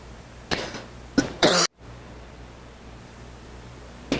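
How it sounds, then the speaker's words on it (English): A man coughs during a church sermon: one short cough, then two more in quick succession, close and alone in a quiet room. "still have a little cough"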